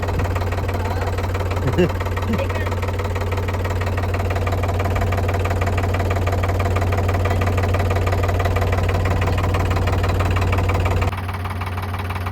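A steady, loud tractor engine idles close by in Manali, with a low, even rumble and rattling knock throughout, with brief voices and bumps over it.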